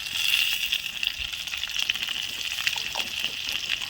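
Onion and capsicum fry in hot oil in a pan, giving a close, steady sizzle with a few soft stirring scrapes and no talk.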